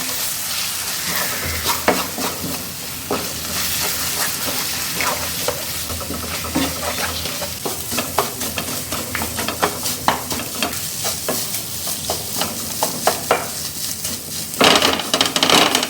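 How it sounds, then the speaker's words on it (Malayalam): Egg sizzles loudly in a hot pan while a utensil scrapes and taps against it, scrambling it in an irregular rhythm. "നമുക്ക് ഇനി ഇതിലേക്ക് മുട്ടയൊഴിച്ച് കൊടുക്കാം ഇനി ഇവിടുന്ന് ചിക്കി എടുക്കണം"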